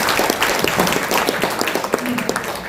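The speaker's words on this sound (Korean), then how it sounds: "감사의 박수 부탁드립니다" Scattered, irregular clapping from the audience thanks the professors at a newspaper's 20th-anniversary policy debate, individual claps distinct amid murmured voices.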